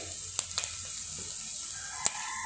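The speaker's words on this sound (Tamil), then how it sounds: "அப்படியே ஒரு கொஞ்சோண்டு கடுகு கறிவடகம் சேர்த்துப்போம்" Mustard seeds and kari vadagam sizzle steadily in hot oil for a paruppu urundai kulambu, with a continuous close frying hiss broken by a few sharp pops.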